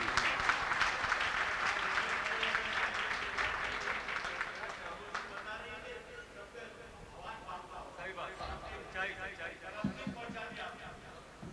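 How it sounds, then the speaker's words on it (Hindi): Audience applause at a Mumbai mushaira poetry gathering at Khilafat House, Byculla: dense, sustained clapping from a large crowd that starts loud and gradually thins, with scattered voices mixed in. "एक बार तालियां बजा कर मुझे बताइए।"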